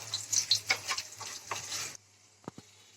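Cashews and raisins stirred in hot ghee in a pan for egg pulao, giving a steady close sizzle with light scraping stirs for about two seconds, then near quiet broken by two soft clinks.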